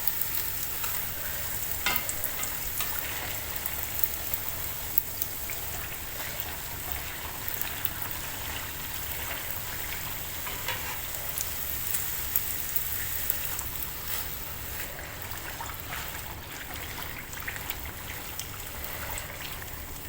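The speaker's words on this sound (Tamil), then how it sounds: "அடுப்பை மீடியத்தில் வச்சுட்டு எண்ணெய் அள்ளி நம்ம மேலே ஊற்றும் போது நல்லா அடுக்கடுக்காக வரும்." Pathir peni pastry fries in hot oil with a dense, continuous crackling sizzle, steady and close throughout, as oil is spooned over the top.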